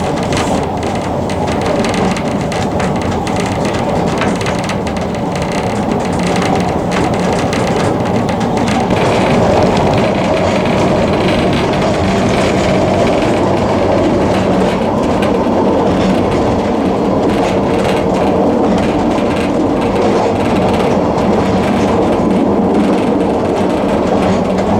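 Steady rumble and clatter of a train hauled by a steam locomotive in North Wales, continuous and fairly loud throughout with rolling wheel noise and no voices.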